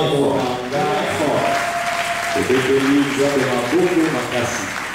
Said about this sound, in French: acclamons très fort le roi des gloires